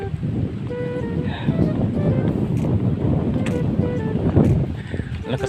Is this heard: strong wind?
yes